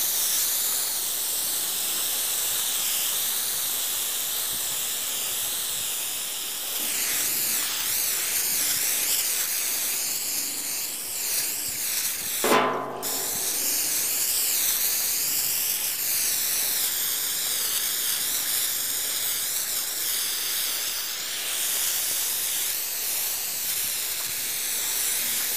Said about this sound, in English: And so we're going to spray that too.